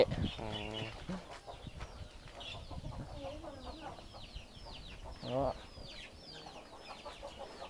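Poultry on a Thai quail farm, with chickens or fowl clucking and calling in bursts over general barn noise, while a voice talks in the background.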